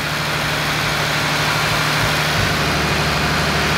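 A Jeep engine idles inside a garage after an intake install, a steady, close, low rumble with an even throb and no talking.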